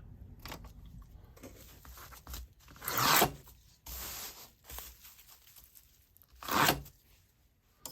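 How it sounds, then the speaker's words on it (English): Bubble wrap being cut for packing up sold items such as books and dishes: a few short, bright tearing and cutting bursts, two louder ones standing out, with soft rustling handling noise between them and no talk. "some bubble wrap. Okay. I'm gonna cut that."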